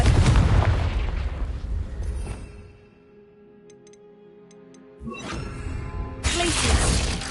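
The Confringo blasting spell goes off in Hogwarts Legacy, a loud burst of booming, crackling impact at the start that fades into a quieter lull with small ticking chimes, then swells again into a second heavy roar of debris.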